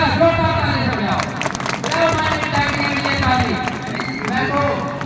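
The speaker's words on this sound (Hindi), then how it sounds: "जोरदार तालियों से बजाओ।" Crowd clapping at an outdoor government rally in rural India, a steady wash of applause with chatter and voices mixed in, sustained and fairly loud throughout.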